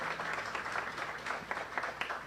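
Audience at a mayoral event in Gage Park clapping, a quiet steady patter of many hands heard from a distance.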